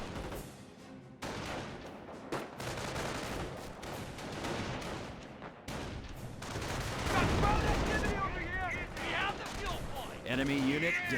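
Mortar shelling in Company of Heroes 1, a World War II strategy game, with repeated sharp gunfire-like blasts and booming impacts. Dense bursts run throughout at steady loudness, mixed with battle noise and talk.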